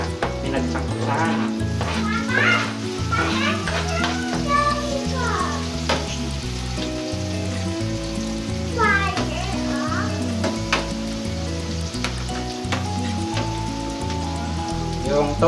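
Garlic and onion sauté in a hot pan with a steady, dense sizzle that runs throughout beneath continuous voices and tonal background sound.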